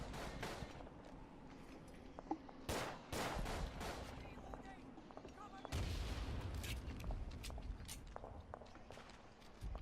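In the World War I shooter game Verdun, artillery and gunfire roar in a dense, continuous barrage, with rapid rifle and machine-gun bursts over heavy rumbling booms.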